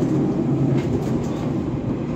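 A steady low rumble of an 813 series electric train accelerating on rails between Chihaya and Kashii, broadband and continuous, with a faint rising whine above it.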